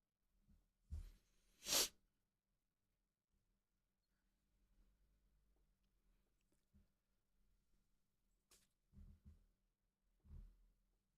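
A sudden sharp sneeze cuts through near silence, followed later by soft clicks and thumps.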